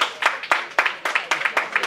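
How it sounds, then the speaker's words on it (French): Clapping from an audience at a school ceremony honouring academic excellence: a steady series of sharp hand claps in an irregular rhythm, fairly close and moderately loud, with no talk. "Bravo, applaudissez."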